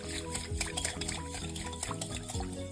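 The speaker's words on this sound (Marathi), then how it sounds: "मी त्याच्यात मी अर्धी वाटी साखर घालून त्याला व्यवस्थित मिक्स करून घेणार आहे साखर वितळेपर्यंत" Sugar being stirred into warm milk in a bowl for eggless donut dough: a spoon scrapes and swirls in quick repeated strokes, close by, with light clinks against the bowl over faint music.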